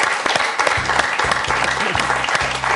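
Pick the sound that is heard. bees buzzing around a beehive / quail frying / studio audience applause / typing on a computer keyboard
studio audience applause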